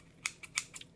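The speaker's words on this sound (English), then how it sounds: "I refer to these as medical scissors, very sharp." Sharp medical scissors from a UK bug-out bag kit are handled up close, giving four or five quick, crisp metallic snips and clicks in a quiet setting.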